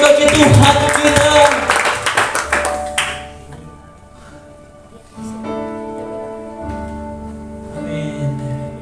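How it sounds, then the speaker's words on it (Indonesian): Congregation clapping and applauding for God during a church service, a dense burst of many hands lasting about three seconds, then fading into sustained organ-like music tones. "Berikan tepuk tangan bagi Tuhan kita."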